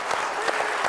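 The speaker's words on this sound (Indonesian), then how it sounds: "Jadi tepuk tangan kepada Askes." A brief burst of audience applause, many hands clapping in a steady close patter for under a second.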